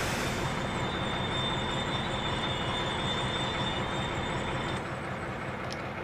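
Freight wagons, Eurosic-type cars, roll steadily along the track in Train Sim World 2 near Köln, a loud continuous rumble with a faint high wheel squeal sustained throughout, no talk.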